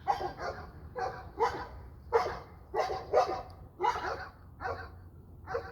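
Puppies bark out back in a yard, a run of about a dozen sharp, yappy barks in quick bursts, fairly close and loud with no talking.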